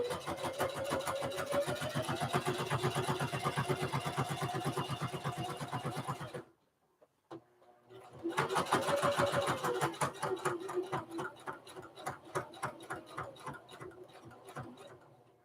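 A sewing machine stitching through many thick layers of a lunch tote, running in a fast steady rhythmic chatter, pausing briefly, then restarting with the needle punching slower and more unevenly.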